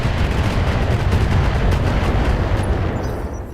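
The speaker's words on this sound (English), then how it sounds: "Missiles!" A missile volley firing in BattleTech, a dense, continuous roar of launches and booms that fills the whole stretch and tapers slightly at the end.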